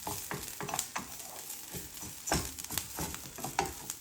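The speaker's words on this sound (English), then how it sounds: "Now I will go ahead and add my 2 cloves of garlic in there, and we'll get those tossed around a little bit." Two garlic cloves sizzling in a hot pan while being stirred and tossed for Spanish rice, a steady frying crackle broken by repeated scraping and stirring strokes, close and fairly quiet.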